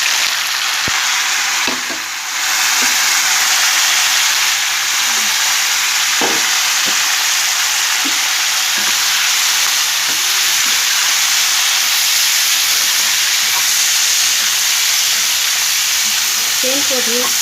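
Potatoes and beans fry in a pan for a mixed vegetable dish, a loud, steady sizzle that runs throughout with occasional scraping and stirring clicks, no voices.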